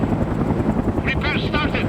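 A helicopter gunship in the World in Conflict strategy game drones with a steady close rotor thump, while radio-style voices talk over it.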